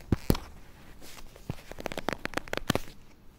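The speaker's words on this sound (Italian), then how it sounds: "Andiamo a spacchettare." Close rustling and tearing of plastic packaging as a package of replica Nike PSG home soccer socks is opened, with irregular crinkles and sharp snaps in quick bursts.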